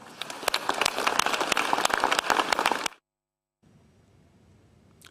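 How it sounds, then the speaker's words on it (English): An audience bursts into dense, sustained applause for trainers and teachers at a public address. The crowded clapping runs for about three seconds, then cuts off abruptly to faint room noise. "let us give them a round of applause."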